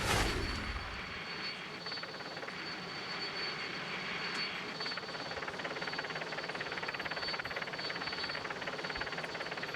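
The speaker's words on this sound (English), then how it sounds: "Helicopter comes over the crest of that little hill" A helicopter flies over the crest of a small hill during a Tour de France stage from Pau to Castelsarrasin, its engine and rotors a loud, steady roar that eases slightly after an initial surge.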